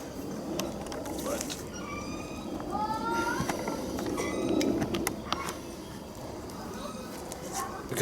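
Ratchet clicking while tightening the third brake light on a Porsche 911 roof, a quick series of close, light mechanical ticks over a steady background hum.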